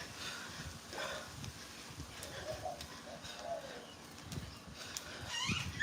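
Birds chirp and call outdoors on a farm with cows nearby, the faint scattered calls carrying over low rustling background noise throughout, with no speech.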